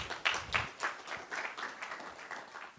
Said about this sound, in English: Yeah, we can applaud that.